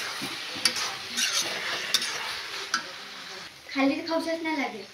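Chili powder and salt being stirred into sauce in a pan for street-style chowmein, soft sizzling with occasional sharp spoon clinks and scraping, a louder burst of stirring near the end.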